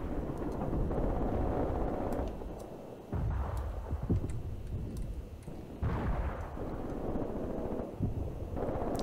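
Artillery pounds enemy gun positions in the Graviteam Tactics war game, a steady low rumble of shelling broken by a few heavier blasts and scattered sharp pops, with no talking.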